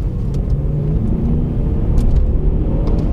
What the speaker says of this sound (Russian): Разгоняется она реально офигенно, машина.